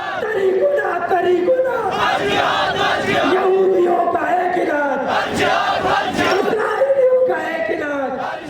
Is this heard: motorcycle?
no